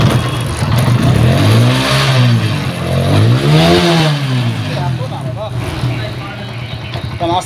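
A TVS Apache RTR 160 motorcycle, its chain and sprocket just serviced, is revved in second gear with the engine rising and falling in waves of pitch. The sound is close and loud, and a voice is briefly heard.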